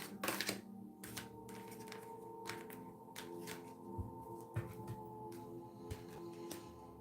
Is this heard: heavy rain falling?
no